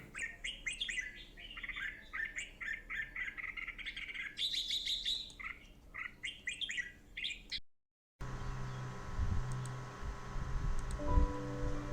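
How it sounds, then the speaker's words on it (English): A red-whiskered bulbul calls in a garden in Thailand, loud, close bright chirping phrases repeated over about seven seconds, followed after a brief break by a steady wash of outdoor noise. "The red-whiskered bulbul, our most populous bird in our garden, wakes me up with his call every morning."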